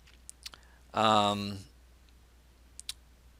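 A single voiced burst with a buzzy, harmonic quality stands between a few faint, sharp ticks, so the expected computer mouse clicks are not clearly present.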